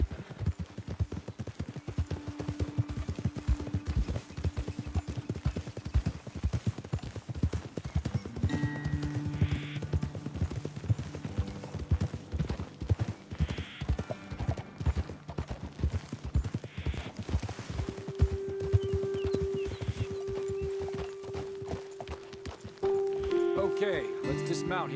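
Rhythmic clip-clop of horse hooves in Red Dead Redemption 2, steady trotting throughout, with brief musical tones and a horse whinny in the background.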